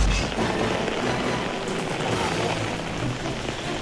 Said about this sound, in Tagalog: Maaga pa lang, wala nang patidang ulan sa malaking bahagi ng Maynila.